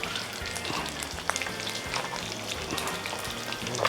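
Food deep frying in hot oil, a steady dense sizzle with scattered crackles and pops running throughout, close and continuous with no voices.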